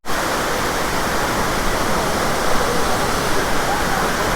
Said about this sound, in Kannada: ಇಲ್ಲೊಂದು ಫಾಲ್ಸ್ ಐತಿ, ಇದು 3ನೇದ್ದು.